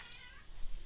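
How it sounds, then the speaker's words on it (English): A pet cat gives a short, faint meow indoors, a brief rising mew that sits low in the background during a Minecraft Hexxit gaming session. "Sorry if you can hear that, guys. This is my cat."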